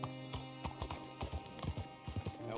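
Quiet, steady clip-clop of horse hooves in Red Dead Redemption 2, the hoofbeats trotting along over a soft tonal background.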